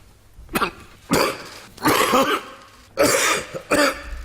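Five harsh coughs come in close bursts with short gaps between them, near and fairly loud, like a coughing fit.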